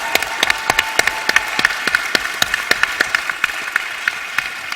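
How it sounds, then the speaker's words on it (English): An audience claps for panelists leaving the stage at an education event, with steady, dense applause marked by sharp individual claps standing out from the crowd. "Give them another round of applause."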